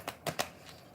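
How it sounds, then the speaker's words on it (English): Tarot cards being shuffled by hand, three short crisp riffling bursts close up and fairly soft, then quiet. "while I'm shuffling the cards"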